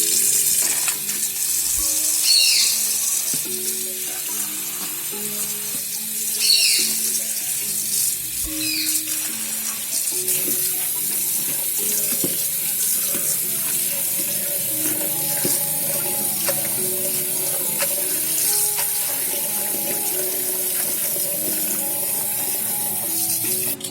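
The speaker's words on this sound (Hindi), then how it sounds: "हमने जो साग और पालक काटा था इसको मिक्स कर कर अब हम इसको धो लेंगे।" Chopped mustard greens and spinach being washed in water from a running kitchen tap, a continuous hiss and splash with a few clinks and sloshes of handling, and no talking.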